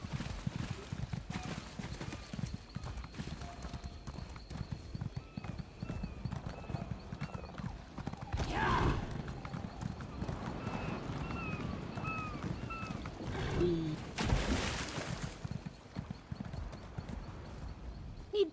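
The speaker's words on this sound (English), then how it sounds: "Come on, you stupid horse," Horse hooves clip-clop in a steady trotting rhythm in The Elder Scrolls Online video game, fairly faint, with a couple of whinnies and small chirps in the background.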